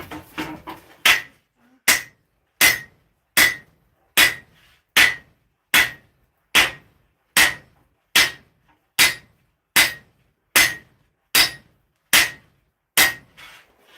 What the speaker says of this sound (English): there's nothing better in life than forging a massive sword.